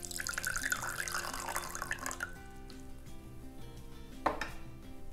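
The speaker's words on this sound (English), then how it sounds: "Just add some water." Water is poured into a bowl for bottom-watering a jade plant cutting, a bright trickling pour that tapers off into a few faint drips and a single clunk near the end, with no voices.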